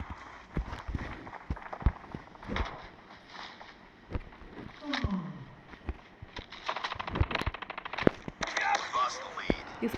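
Gunfire in the Call of Duty video game: sharp shots and bursts scattered through the scene alongside running footsteps, with a player talking over the action.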